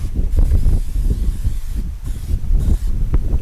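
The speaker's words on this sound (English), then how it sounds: "We're gonna give it a base of some cooking spray." A steady, loud hiss of cooking spray onto chicken runs almost continuously with brief gaps, close by, mixed with low rumbling handling noise.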